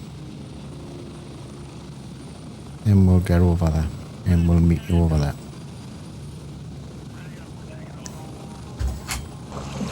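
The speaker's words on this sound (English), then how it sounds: "Right, we'll jump on our chopper" Steady, droning rotor and engine noise of a helicopter in flight in a video game runs through the whole stretch, with people talking over it partway through.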